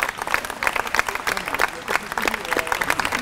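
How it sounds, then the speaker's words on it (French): A crowd at a sports ground claps dense, continuous applause as the players walk onto the field. A voice speaks faintly beneath the clapping. "veuillez applaudir l'entrée des joueurs sur le terrain."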